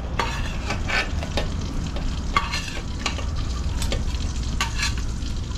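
Shrimp fry in a pan for seafood laing, giving a steady, dense sizzle with scraping stirring strokes throughout, close and continuous.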